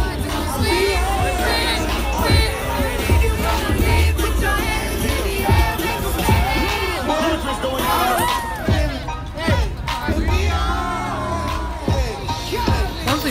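Dense crowd noise at the Eagles Super Bowl victory parade, with continuous babble, shouts, whoops and scattered cheers from people close by, a steady loud hubbub throughout without a single clear peak.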